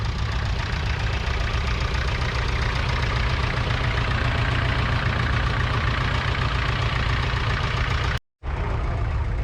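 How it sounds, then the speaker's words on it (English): A restored vintage Nuffield tractor with a small diesel engine idles at a farming heritage show in Scotland, a loud, steady low rumble with a knocking chug that runs nearly unbroken, cut by one brief dropout near the end. "this is a fine example here of the wee diesel Nuffield"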